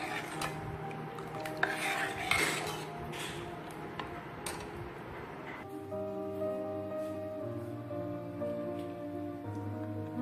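Karupatti halwa mixture is stirred in a pan on the stove, with metal scraping and clinking of the utensil against the pan, busy at first, then settling into a steady simmering hiss.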